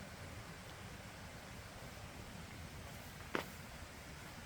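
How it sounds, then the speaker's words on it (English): A creek runs through a snowy yard, a faint, steady broadband rush of flowing water with a soft continuous wash and one brief click near the end, no talking. "Can you hear the creek running?"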